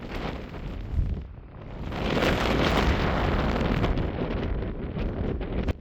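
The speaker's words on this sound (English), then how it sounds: "This up on top of this overlook was really windy." Strong wind on top of an overlook buffets the microphone with loud, roaring gusts that swell and ease, rumbling low throughout, with no voices.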